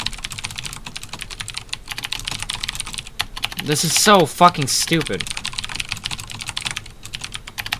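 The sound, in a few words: typing on a computer keyboard during a typing test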